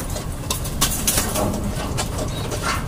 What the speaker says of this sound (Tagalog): Ito mga ibon, no?